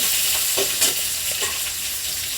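Soybean curry frying in a pan with potatoes and spices in a village kitchen, giving a steady close sizzle with a few soft stirring scrapes, no talking.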